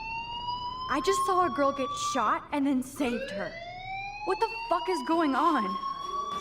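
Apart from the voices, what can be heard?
fire alarm in the video game Life is Strange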